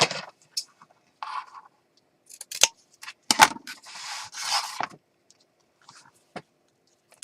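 Scissors trim excess material from a handmade planner, making a few sparse, quiet snips and light scratchy rustles up close with gaps of silence between them.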